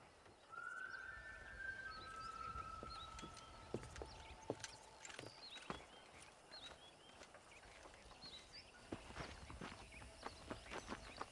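Horse hooves clip-clopping in the Red Dead Redemption video game, a faint, uneven walking rhythm with a brief whinny early on and low ambient outdoor sound.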